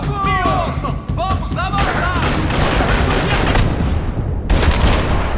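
Gunfire in the video game Max Payne 3 rattles in dense, loud bursts with booming impacts and chaotic in-game effects, sustained throughout and close.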